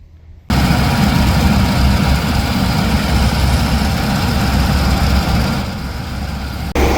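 A combine harvester engine runs in a mustard field with a loud, steady low rumble close by that kicks in abruptly, holds for about six seconds and eases slightly near the end.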